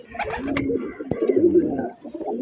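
An old homing pigeon back in its sky loft coos close and clear, a throaty rolling call repeated over a couple of seconds, with faint rustles around it.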